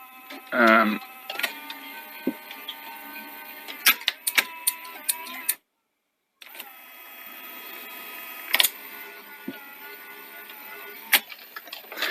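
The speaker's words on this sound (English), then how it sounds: "There's still a little bit of a squeak coming from somewhere as well." A Toshiba Betamax V9600 VCR mechanism gives faint, close squeaks and small mechanical clicks over a quiet running hum, interrupted by a brief dropout; one louder squeal sounds near the start.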